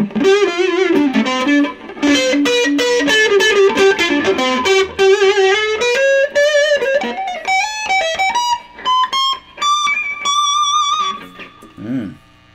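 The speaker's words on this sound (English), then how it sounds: "Alright, neck position, distortion." A heavily distorted Squier Sonic Mustang electric guitar on its neck pickup plays a loud, close lead melody with bends and vibrato, finishing on a sliding, fading note.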